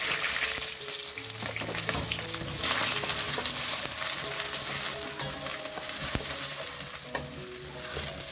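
Chopped onions and green chillies fry in a mustard-cumin tempering in a heavy-bottomed pan, a continuous close sizzle with occasional stirring scrapes throughout.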